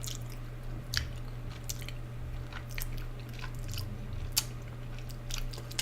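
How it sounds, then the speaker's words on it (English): Close-up bites and chewing of pig tripe soup with mozzarella cheese, carrot and shiitake mushrooms, soft irregular crunches and wet squishes over a low steady hum, no talk. "I just take a bite."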